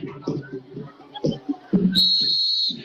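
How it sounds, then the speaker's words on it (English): A sharp, high referee whistle blast cuts through a loud stadium crowd and announcer chatter at a high school football game, De Queen vs Ashdown, holding steady for most of a second. "Got another whistle."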